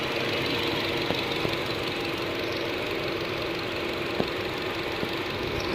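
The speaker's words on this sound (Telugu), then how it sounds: "ఇంజన్ కండిషన్ చూడండి, పెట్రోల్ వేరియంట్ ఇది." Petrol engine of a 2022 Hyundai Alcazar top model with 34,000 km, idling steadily and evenly, a constant close hum with faint ticks and no voices.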